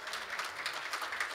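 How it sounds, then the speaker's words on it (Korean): A brief, even burst of applause from an audience at a corporate business forum award ceremony, dense clapping at moderate level with no voices over it. "다시 한번 박수 부탁드립니다"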